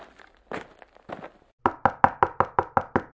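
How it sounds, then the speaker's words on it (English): Knocking on a door in a cartoon setting: a few soft shuffling sounds first, then a steady run of about eight sharp, evenly spaced knocks, close and clear with no talk over them. "let's knock on the door right now"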